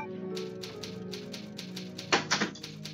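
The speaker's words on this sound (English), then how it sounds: "Yeah, typing my memoir." Typewriter keys clacking in the Resident Evil 2 video game save room, a rapid rhythmic run of sharp mechanical strikes ending in a few heavier clunks, steady and close with faint background hum.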